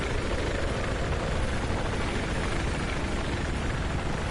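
A helicopter in the video game Battlefield 4, its rotor and engine roar loud, dense and unbroken, filling the whole moment.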